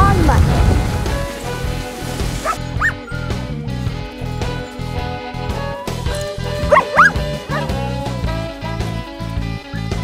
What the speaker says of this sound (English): This is where the dogs wait to get hooked up and get their booties on and get ready to go.